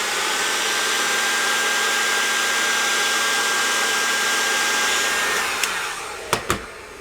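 Hot air tool blowing onto a Fender Blues Junior amp circuit board, a close, steady whooshing hiss that holds for about six seconds before switching off, followed by a couple of sharp clicks.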